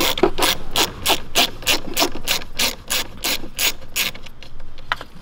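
A hand ratchet loosens a 12 mm fastener on a 4th-generation Ram Rebel truck, giving a loud, close run of quick, even clicks that pause briefly and resume.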